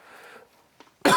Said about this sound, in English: excuse my coughs